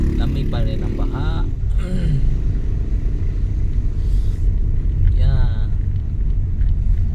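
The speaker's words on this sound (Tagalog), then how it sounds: "Ayun, traffic na, pati sa kabila traffic pa rin kasi ang baha" Cars crawl through traffic on a flooded road in Kawit, a steady loud engine rumble with water wash, while people talk over it throughout.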